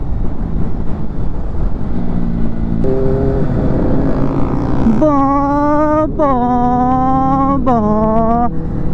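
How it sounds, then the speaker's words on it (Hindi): Benelli motorcycle exhaust note heard while riding, a loud steady engine drone with rising revs and sharp gear-change dips, under strong wind rush on the microphone. "जो इसका एग्जॉस्ट नोट है ना भाई जिसके लिए बैनली जानी जाती है भाई मज़ा आ गया सुन के"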